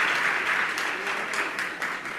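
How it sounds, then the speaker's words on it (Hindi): Audience applause at a spiritual discourse gathering: a steady wash of many hands clapping close and full, continuing evenly throughout with no talk over it. "ताली बजाओ"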